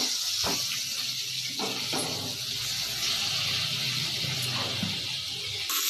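Slices of bitter gourd frying in a pan give a steady, moderate hiss and sizzle that runs throughout, with a few soft clicks and stirring knocks over it.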